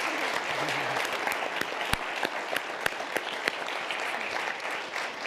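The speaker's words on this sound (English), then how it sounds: "A round of applause for Frank while he has to leave." Steady applause fills the room as a departing panelist named Frank leaves a journalism panel discussion, a moderate crowd clapping continuously with a few sharper claps standing out.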